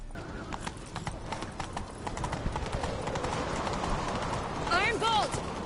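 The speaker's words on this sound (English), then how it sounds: "Grab a horse, we'll chase him down." Hooves clip-clop in a quick galloping rhythm as a horse runs in The Witcher 3, close and steady, with a short neigh near the end and voices talking over it.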